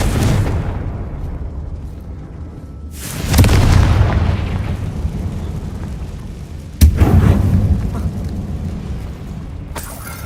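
In Hogwarts Legacy, Confringo spell blasts detonate in a closed tomb-like space, two loud booms a few seconds apart, each with a heavy low rumble that slowly decays.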